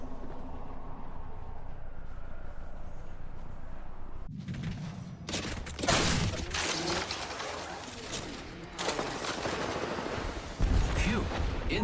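Rapid video game gunfire from a battle royale match bursts in dense, loud volleys after a quieter opening, continuing in clustered strings through the rest of the clip.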